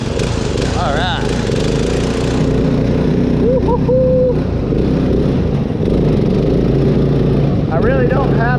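A mud mower driven by a Predator engine pulls away in second gear with a loud, continuous, rough engine drone and brief whining rises, close up throughout.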